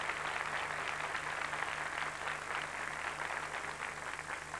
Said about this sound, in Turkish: Mesut Asker'e bir alkış